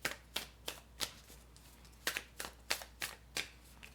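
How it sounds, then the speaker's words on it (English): Tarot cards being shuffled by hand in short crisp riffling bursts, about a dozen quick papery flicks with brief pauses between, close and fairly quiet with no talking. "I'll take a moment too while I'm shuffling"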